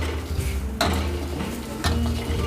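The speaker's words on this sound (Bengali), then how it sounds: "দিয়ে এভাবে একটু কড়াই নাড়াচাড়া করে নেবেন" A ladle stirs dalia khichdi in a kadai with ghee, with a couple of distinct scraping strokes over a steady low sizzle close by, and no talking.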